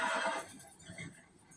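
A horse in Red Dead Redemption 2 gives one loud, shrill whinny that fades within half a second into quieter snorting and shuffling, with no talk.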